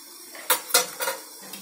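Steel plates clink and clatter as they are handled in a home kitchen during rice papad preparation, with three or four sharp metallic knocks close by and no voices.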